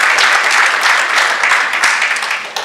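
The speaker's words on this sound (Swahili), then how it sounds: "tupige makofi mengi sana kwake" A crowd at a ceremony honouring athletes breaks into dense, sustained applause, loud and continuous with many hands clapping at once, fading slightly toward the end.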